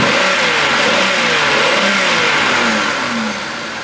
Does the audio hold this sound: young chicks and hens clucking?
no